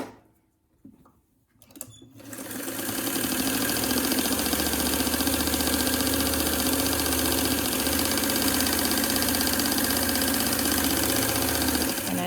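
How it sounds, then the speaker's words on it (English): A sewing machine stitches down the long sides of a homemade fabric face mask. After a quiet start it runs as a loud, steady, continuous whirr to the end, with no talking. "I'm sewing all the way to the end on each of those long sides."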